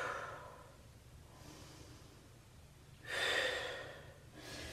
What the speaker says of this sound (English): Nice 2 deep breaths here.